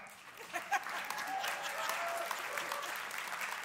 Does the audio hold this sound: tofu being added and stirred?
no